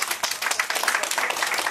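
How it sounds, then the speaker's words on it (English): Audience at the Williams family reunion gives a warm round of applause, dense rapid clapping from many hands close by, filling the whole moment without speech. "So we want to really give these folks that put all these things together a big round of applause."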